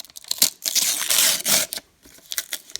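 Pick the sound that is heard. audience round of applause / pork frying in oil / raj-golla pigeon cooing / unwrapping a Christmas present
unwrapping a Christmas present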